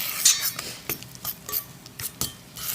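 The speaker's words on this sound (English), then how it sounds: "extremely gently just kind of mix it around" A utensil gently stirring lumpy pancake batter in a bowl gives soft irregular scrapes and light clinks against the side, close and quiet, repeating every fraction of a second.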